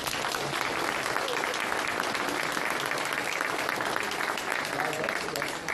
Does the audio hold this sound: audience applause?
yes